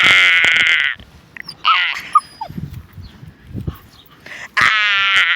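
A dog lets out loud, high, drawn-out whining cries, one at the start and another at the end, with short yelps and quiet snuffles between.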